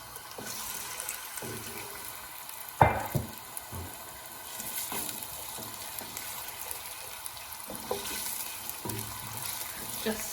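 Ginger and garlic frying in hot oil for a lamb and squash dish, a soft continuous sizzle with occasional clacks of a utensil stirring the pan, fairly quiet and close, without talk.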